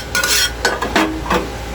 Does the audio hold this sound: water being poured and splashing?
no